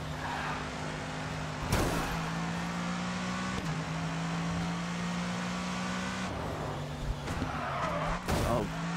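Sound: race car driving and skidding in video game GRID 2

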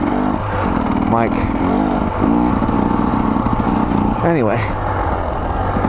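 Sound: KTM XC-W dirt bike engine accelerating

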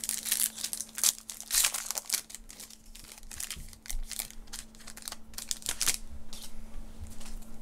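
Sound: trading card pack wrapper being opened

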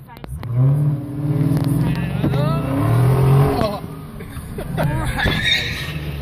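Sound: Dodge Charger 6.4 liter V8 Hemi engine revving

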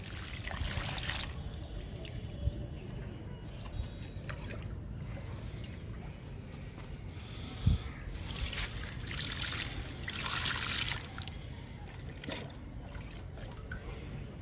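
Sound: watering plants, water trickling

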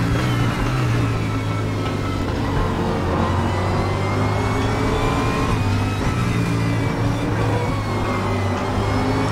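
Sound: race car engine at full throttle in RaceRoom video game

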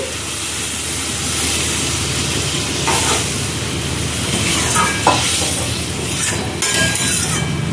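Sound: water added to butter chicken sizzling in pan

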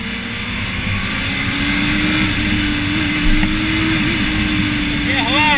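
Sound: Honda Hornet motorcycle engine while riding

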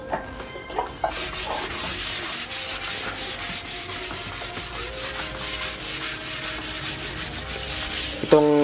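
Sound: sanding primed plywood with number 600 sandpaper

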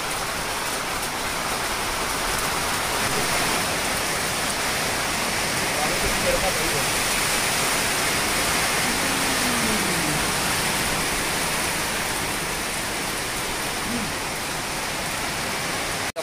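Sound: heavy rain

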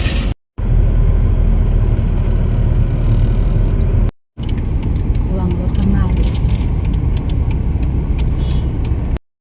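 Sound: riding in a car

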